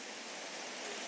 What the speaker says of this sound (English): the rain itself is just kind of beating the water down and keeping it flat